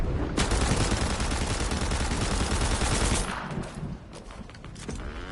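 Automatic gunfire from the video game Fortnite rattles in a dense, loud burst for about three seconds, then thins to scattered shots and softer game sounds.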